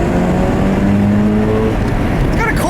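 The rotary engine of a 2004 Mazda RX-8 drones loudly and steadily from inside the moving car, its pitch climbing slightly as it revs.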